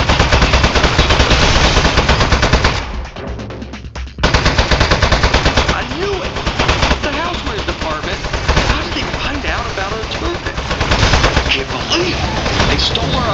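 Turret gunfire in the video game Aperture Desk Job, a loud, continuous rapid-fire stream that pauses briefly and then resumes, with someone talking over it.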